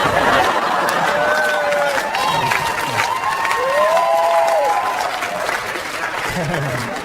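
Audience at a stand-up comedy show applauds and cheers in a steady, dense wash of clapping with whoops and crowd noise throughout.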